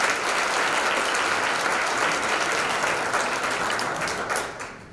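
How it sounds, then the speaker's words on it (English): Audience applause at a commemorative salute to Dr. Martin Luther King Jr., a dense, steady wash of clapping from a large crowd that fills the room and fades slightly near the end. "Let's give them a round of applause."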